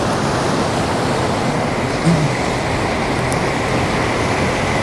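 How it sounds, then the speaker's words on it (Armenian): Goghtanik waterfall in Armenia: rushing water pours in a steady, loud broadband roar that stays constant throughout, close by, with no voices. "Գողթանիկի ջրվեժը"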